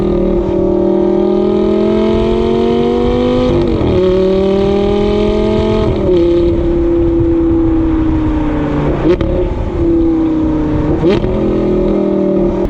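A Lamborghini engine revs hard with the window open, rising and falling in steady loud pulls with short gear-change breaks. The sound is close, continuous and throaty, with no talk over it.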